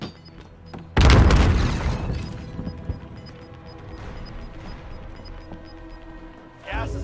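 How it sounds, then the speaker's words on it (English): A grenade explodes in a battle royale video game, a sudden loud boom with a crashing tail that decays over several seconds, with a second burst of noise near the end. "Grenade out!"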